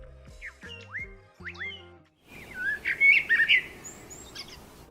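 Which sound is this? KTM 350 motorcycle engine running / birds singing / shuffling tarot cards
birds singing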